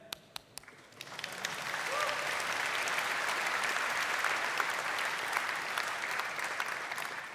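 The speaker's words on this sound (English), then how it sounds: "that was a clapping moment" Applause at the Unite Europe 2015 opening keynote, beginning with a few scattered claps that quickly swell into a full, sustained round of clapping from a large audience in a hall.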